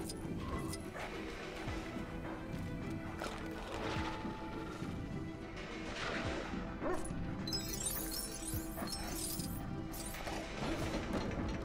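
A dog in the Lego Marvel Super Heroes 2 video game gives soft barks, yips and whimpers amid busy game sounds and mechanical clicking, fairly faint and mixed into a steady background.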